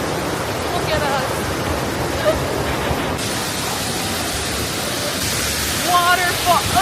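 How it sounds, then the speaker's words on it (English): Water from a waterfall at Table Rock, New Hampshire, pours and roars in a loud, steady broadband rush up close, and brief voices come through near the end. "Waterfall."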